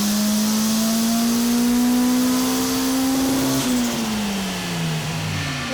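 A turbocharged Honda CRX engine revving hard on a dyno with the boost turned up, one loud sustained pull whose pitch climbs steadily, then a sharp drop as the throttle lifts. The sound is close, with no voices.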